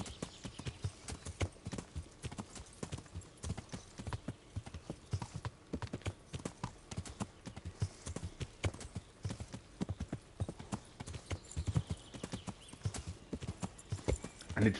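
Horse hooves clip-clop steadily in the Kingdom Come Deliverance video game, a continuous rhythmic trot of sharp hoof strikes heard alone at a moderate distance, with faint snorts.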